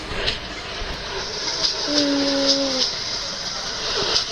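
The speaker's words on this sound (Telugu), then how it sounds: "ఈ ట్రైన్ కదులుతుంది గైస్." A train rolls slowly in a video game with a steady rumbling hiss and a brief tonal whine partway through, loud and continuous with no other sounds over it.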